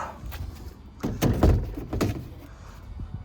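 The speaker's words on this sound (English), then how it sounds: "Okay, back door's back on." The back door of an Omlet chicken coop is fitted into place, making a series of close plastic knocks, slides and thunks, with the heaviest clunks in the middle.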